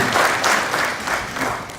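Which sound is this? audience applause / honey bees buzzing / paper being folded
audience applause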